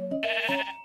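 Sheep bleating in the Minecraft video game, a single wavering baa that rises and falls in pitch, clear and close with no talk over it.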